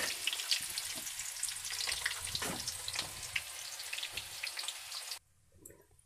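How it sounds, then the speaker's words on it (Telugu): Small pieces of a little onion roast in hot oil in a pan, a bright crackling sizzle with occasional stirring scrapes that cuts off abruptly near the end, leaving near silence. "ఇప్పుడు ఒక చిన్న సైజు ఆనియన్ ముక్కలుగా కట్ చేసుకున్నాను ఇవి బాగా రోస్ట్ అవ్వాలి"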